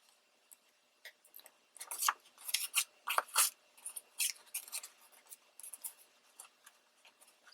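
Close-up scissors snipping around paper tags for a handmade mini book, a run of quick, crisp cuts in irregular bursts, quiet and with no voices.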